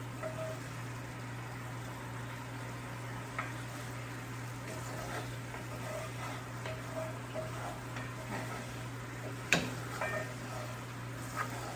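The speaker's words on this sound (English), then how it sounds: "I'm going to let it cook here just for a few seconds longer, give it a good stir in" A barbecue glaze bubbling in a pan, a soft, steady simmering hiss with light stirring clicks and one sharp utensil knock near the end, with a low hum underneath.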